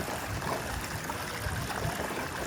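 Mineral spring water near Antananarivo with colourful built-up deposits, flowing and trickling in a steady, close, continuous rush with no pauses.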